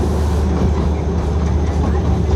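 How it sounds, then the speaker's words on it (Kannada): A diesel-engined Darjeeling toy train, heard from on board as it shakes and rocks, gives a loud, continuous rumble and rattle, with rhythmic clatter under the heavy drone. "ಇದು ಡೀಸೆಲ್ ಇಂಜಿನ್ ಟ್ರೈನ್"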